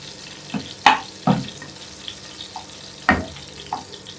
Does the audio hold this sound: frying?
yes